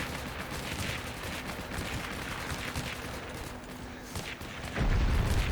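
Gunfire in the World War II shooter Heroes and Generals: steady, dense bursts of shots and rattling fire fill the clip at mid distance, with a louder boom near the end.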